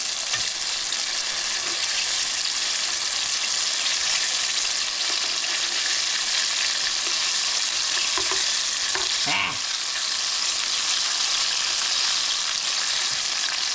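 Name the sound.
chicken pieces frying in a pan for sesame chicken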